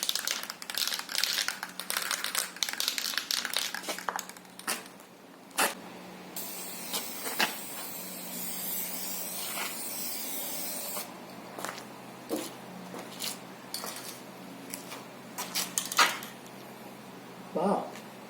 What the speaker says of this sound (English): Now we're ready to spray the clear coat.